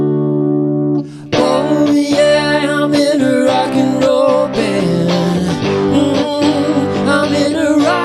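A VoiceLive 3 vocal processor on its fixed harmony setting adds one held note under a male singer's rock line, giving a processed, tuned vocal over the sung words after a short lead-in tone.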